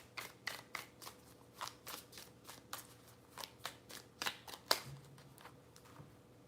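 Tarot cards are shuffled close up in a quiet room, a run of crisp riffling slaps and flicks coming every half second or so, soft and alone.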